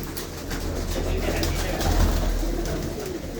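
Pigeons in a pigeon loft coo and rustle continuously at moderate distance, a soft layered murmur of bird calls over low background rumble.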